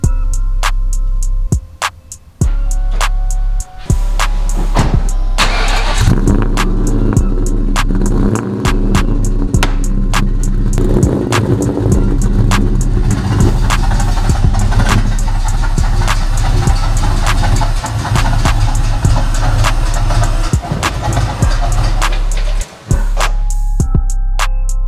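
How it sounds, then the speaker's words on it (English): A Ford Mustang SVT Cobra engine cranks, catches and runs with a loud, steady rumble, revving unevenly at times, with occasional sharp clicks and pauses near the start and end. "I'm gonna try to start it up for you guys"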